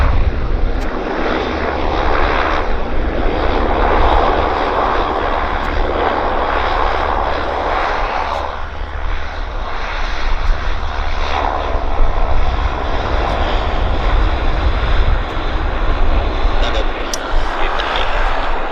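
A Delta Boeing jet roars continuously through its takeoff run at Vancouver airport under smoky skies, the loud broadband engine noise steady throughout while a voice talks over it.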